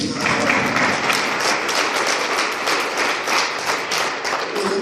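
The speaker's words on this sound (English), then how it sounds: "please, another round of applause for Osiris, please" Audience applause at a public gathering of residents responding to police, steady dense clapping throughout, loud and close with no pauses.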